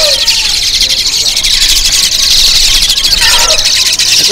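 Young Asian pied starling chicks in a bird shop kiosk keep up a busy, shrill chirping chatter close by, loud and continuous, while a person talks over them.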